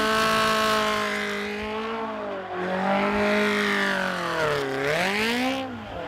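A car spins in donuts with its engine revving in rising and falling sweeps while tires squeal, loud and close, with no voices.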